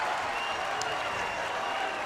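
Capacity crowd at a St. John Bosco high school basketball game applauding and cheering in a steady, dense roar that fills the whole stretch.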